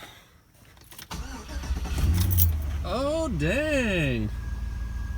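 Keys jangle, then a Chevy Avalanche or Silverado 5.3L pickup truck engine cranks and starts, settling into a steady idle while a voice exclaims briefly.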